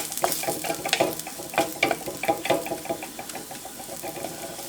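Ginger frying in a pan for Kerala-style puli inji, a steady crackling sizzle with repeated scraping stir strokes, close and fairly loud, with no voices.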